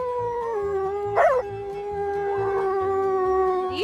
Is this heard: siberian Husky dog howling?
yes